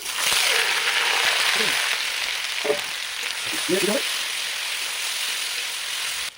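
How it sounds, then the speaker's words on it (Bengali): Raw tomatoes frying in mustard oil in a wok, with a steady loud sizzle throughout and a few soft stirring scrapes partway through. "প্রথমে কড়াতে একটু সর্ষের তেল দিলাম, টমেটোটা ভেজে নিতে হবে।"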